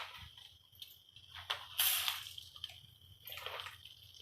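Whole spices dropped one by one into hot oil for a Malvani masala, sizzling in bright hissing bursts that swell and fade over a low flame, with no talking.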